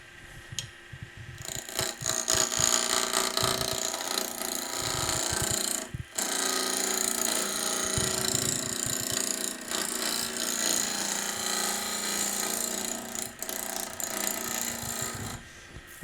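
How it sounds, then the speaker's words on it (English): Wood lathe running at fast speed while a skew chisel, laid on its side, shaves a patio skittle: a steady, loud, continuous scraping rasp that carries on for most of the stretch, with one brief dip near the middle and no talking. "I'll use my skew chisel just on its side. Nice fast lathe speed."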